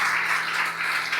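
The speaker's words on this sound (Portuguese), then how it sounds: "Você podia aplaudir a Deus pela vida deles" A church congregation claps together during a sermon, a steady dense patter of many hands that holds evenly across the short stretch with no pauses.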